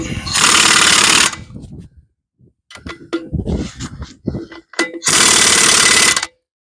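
An impact wrench tightens wheel lug nuts after wheel bearings are repacked, giving two loud, sustained rattling bursts with clanks and handling noise between them.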